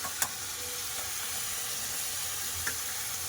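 Tomatoes and onions being sautéed in a pan for a Silver Carp fish curry, a low constant sizzle with a couple of faint spatula taps.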